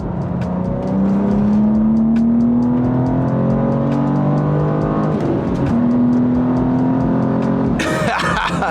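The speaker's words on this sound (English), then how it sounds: "Once the car picks up full boost and you're in the sweet spot, it just wants to keep on going." A BMW G87 M2 engine revs hard and climbs steadily in pitch under full-boost acceleration, loud and continuous, with a gear change near the end.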